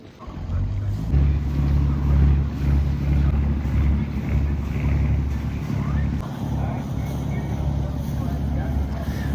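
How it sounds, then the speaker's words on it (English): A pirate-style passenger trip boat heads out of Bridlington harbour, its engine a steady, loud low rumble mixed with gusty wind buffeting the microphone. "And there's Sean taking his pirate ship out, perhaps to begin the day's taking trips for passengers."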